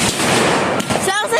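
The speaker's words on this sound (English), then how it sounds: "Sounds like gunshots." Loud Fourth of July fireworks bangs, sharp and gunshot-like, crackle densely and continuously at close range while an excited voice talks through them.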